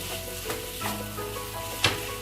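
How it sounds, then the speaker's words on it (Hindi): Almonds roast in a pan for a home cough remedy, giving a soft, continuous sizzle broken by a few brief stirring scrapes, with one sharper clack near the end and no talking. "बादाम अब इसको हम भून लेंगे"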